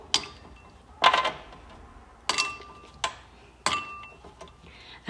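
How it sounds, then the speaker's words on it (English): Ice cubes are dropped one at a time into a bowl, giving five separate sharp clinks spaced about a second apart, each with a short glassy ring, close and fairly quiet. "I can take off my ice cubes, put them back in my bowl."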